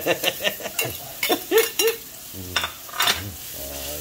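Onions sautéing in a hot pan, sizzling under a series of short scraping and stirring strokes from a utensil, close and fairly loud, with no talking.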